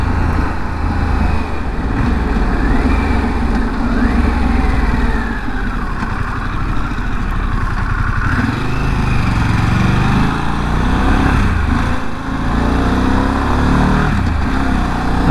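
A Harley-Davidson Pan America adventure motorcycle engine runs steadily while riding on dirt, a loud, continuous drone with wind noise and small shifts in pitch throughout.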